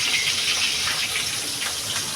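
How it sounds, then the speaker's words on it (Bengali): A fish head frying in hot oil for a Bengali chalkumro greens dish, spluttering and crackling in a dense, steady sizzle close by. "মাথাটা ফিরতে কিরকম চটচট করে"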